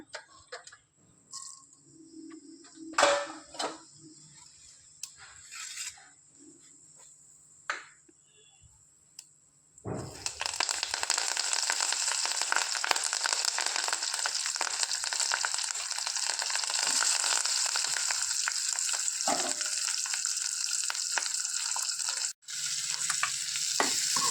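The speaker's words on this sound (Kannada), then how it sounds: "ಒಗ್ಗರಣೆ ಹಾಕ್ಕೊಳ್ಳೋಣ." Quiet clinks and taps, then a sudden loud burst of tempering spices sizzling in hot oil that crackles steadily and continuously for a long stretch.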